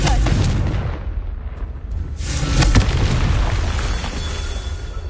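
A Confringo explosion spell in the video game Hogwarts Legacy, heavy booming blasts with crackling bursts, loud and close, repeating over a few seconds.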